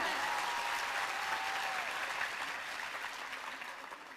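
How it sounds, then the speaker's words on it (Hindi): Audience at a Rajpurohit community gathering in Surat applauds the event organizers, a steady wash of many hands clapping that holds at an even level and eases off slightly toward the end. "तो एक बार ताली उन आयोजकों के लिए जिन्होंने इतना प्रोग्राम बनाया"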